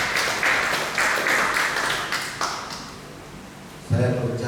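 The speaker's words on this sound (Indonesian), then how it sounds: "Tepuk tangan dulu dong buat Tuhan Yesus" Worshippers in a church applaud for Jesus, a steady wash of clapping in several swelling waves, moderately loud, with a voice speaking briefly at the close.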